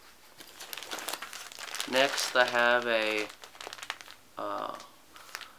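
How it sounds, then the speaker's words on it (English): A heavy plastic bag holding spare socks and underwear is crinkled and crumpled by hand, with loud rustling bursts around the middle and again near the end while a person talks over it. "a heavy plastic bag with an extra pair of socks and underwear in there"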